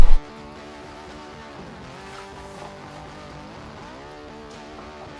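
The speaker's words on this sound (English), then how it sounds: "The bike's running, and yeah, I can take it apart now." A Honda CB650 motorcycle engine idling steadily after a brief loud start, a low even rumble with a slightly wavering pitch, close by and with no talking.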